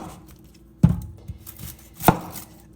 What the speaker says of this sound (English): So I'm going to cut up this onion